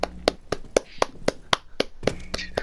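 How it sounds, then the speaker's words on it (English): Round of applause at a podcast recording: a handful of sharp, evenly spaced hand claps, like a single person or small group clapping briefly in a quiet room. "Can we have a round of applause for Austin?"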